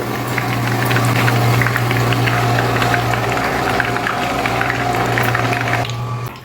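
Brinjal slices for vankaya bajji frying in hot oil, a loud, dense, steady sizzle with a constant low hum beneath, running unbroken until a sudden drop near the end.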